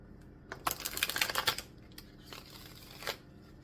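A deck of cards is shuffled close by in a quick rustling burst, followed by a few softer riffles and taps.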